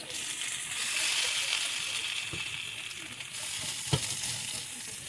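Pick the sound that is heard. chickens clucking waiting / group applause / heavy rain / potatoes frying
potatoes frying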